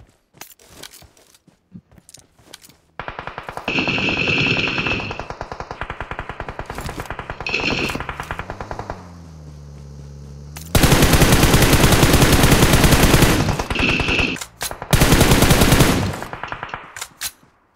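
Gunfire bursts from a battle royale video game scrim ring out loud and close, with sharp automatic volleys, some clicks and quieter gaps between heavy runs of shooting.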